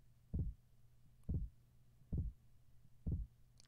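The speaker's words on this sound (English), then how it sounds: "the sound when you pass over these things can sound like a little bit like a heartbeat" Faint heartbeat-like thumping in the No More Room in Hell zombie game, heard when passing over objects: four low, soft beats about a second apart over a quiet hum.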